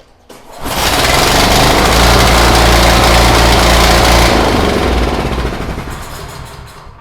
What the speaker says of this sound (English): My snowblower starts up perfectly on the first pull.